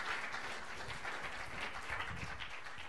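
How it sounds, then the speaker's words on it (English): Steady audience applause at an event where a ventriloquist is performing, a dense wash of clapping at moderate level with no talk over it. "Give him a warm round of applause as he has a seat."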